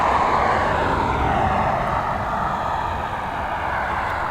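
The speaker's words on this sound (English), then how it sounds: "this Boeing 737" Boeing 737 jet at Dublin Airport, a loud, close, steady roar of engine noise that holds strong throughout and eases only slightly toward the end, with no talk over it.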